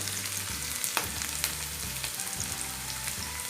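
Curry leaves crackle and sizzle in hot oil, a dense, continuous frying hiss broken by small popping bursts, close and steady throughout with no voices.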